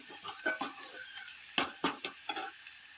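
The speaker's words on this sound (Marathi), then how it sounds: "टोमॅटो सुद्धा छान असा मऊ होईपर्यंत भाजून घेते." Tomatoes frying in hot oil with garlic, cooking down until soft, with soft sizzling broken by several sharp bursts of stirring and spatula scrapes against the pan.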